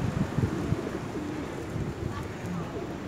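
Several pigeons coo in low, rolling murmurs nearby while being fed bread, with light wind noise and faint voices in the background.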